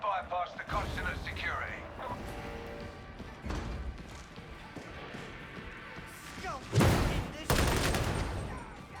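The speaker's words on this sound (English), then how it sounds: "Did you shoot the wall in front of you" Video game gunfire strikes a wall in several loud bursts of rapid shots and thuds, with gaps between volleys, while players talk over it.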